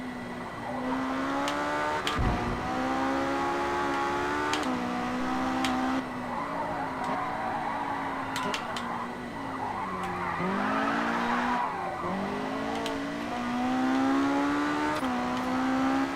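Race car braking hard and late on a track, tires skidding and squealing over a steady, close engine drone with pitch dips as it slows, continuous for the whole stretch.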